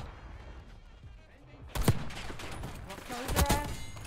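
Sniper rifle shots in Black Ops 6 on the Nuketown map crack out twice, loud and sharp, about a second and a half apart, over quiet game ambience.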